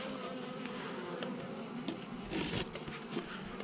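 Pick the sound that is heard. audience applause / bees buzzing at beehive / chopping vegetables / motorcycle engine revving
bees buzzing at beehive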